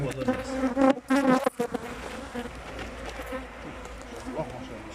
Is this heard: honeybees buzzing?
yes